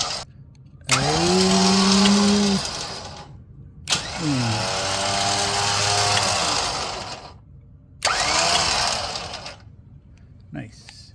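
Hidden winch motor on a Ford Bronco runs in three separate bursts, a loud whirring whine rising and falling in pitch with short pauses between, close by and without voices.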